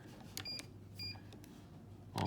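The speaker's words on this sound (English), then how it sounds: "on one beep, off another beep" Scanreco radio remote control in switch test mode giving short electronic beeps as functions toggle on and off, a few brief chirps spaced through a quiet background, with a louder burst at the end.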